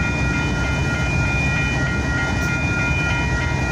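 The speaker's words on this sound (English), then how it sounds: "I say we got 3 trains tonight, 3 in 1." Trains rumbling past at night between Sampson and York Street in Houston, one stopping to be sided; a steady loud rail roar with sustained tonal squeal, continuous and close.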